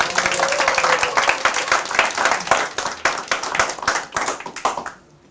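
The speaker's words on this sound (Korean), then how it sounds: "박수 한번 부탁드리겠습니다." Brisk, loud audience clapping at a Korean lecture by a taxi driver turned taxi college president. Dense, rapid hand claps run continuously for about five seconds, then cut off abruptly.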